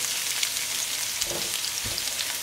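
Onions and herbs sizzle softly in a pot, a steady quiet frying hiss with a couple of faint stirring knocks.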